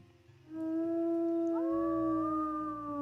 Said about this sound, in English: One big family howl to end it off.